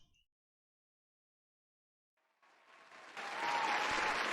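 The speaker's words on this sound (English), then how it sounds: "let's keep that applause going" Applause rises from silence, starting with scattered claps and swelling into steady, full clapping from a crowd that continues to the end.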